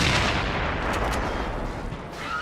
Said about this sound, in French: Lancez les grenades!